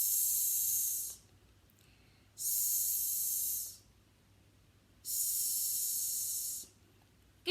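A voice imitates a snake with a long stretchy 's' hiss for a phonics lesson, three sustained bright hisses of about a second each, close and clear, separated by quiet pauses.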